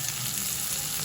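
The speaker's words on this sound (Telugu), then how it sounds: "ఇందులోనే ఒక చిన్న టమాటా వేసుకొని బాగా వేయించుకొని" Onion and tomato frying in a pan, a short, steady, close sizzle with no talk.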